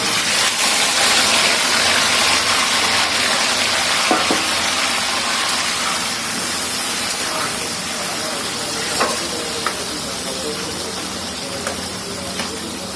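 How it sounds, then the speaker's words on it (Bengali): Potatoes for crispy french fries bubble in hot oil with a continuous moderate sizzle and hiss, broken now and then by faint clinks of stirring. "আলুটা ভাজা হয়ে গেছে, দেখেন উপরে উঠে গেছে।"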